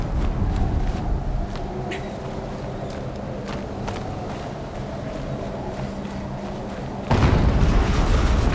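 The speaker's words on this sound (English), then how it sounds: "Explosion." Explosion in the video game Horizon Zero Dawn, a sustained heavy rumbling blast that roars on for seconds and swells louder again near the end, dense and loud without speech.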